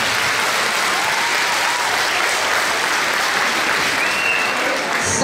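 Audience applause at an anniversary concert of an ensemble: dense, sustained clapping from a large crowd filling the whole stretch, loud and even throughout.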